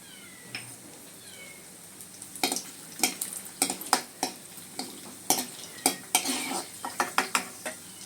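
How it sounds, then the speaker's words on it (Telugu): Cashew nuts frying in a pan for poha upma, with a utensil stirring and scraping them in a run of quick, close clinks and taps under a faint sizzle. "ఫస్ట్ జీడిపప్పు వేపేసుకుందామండి."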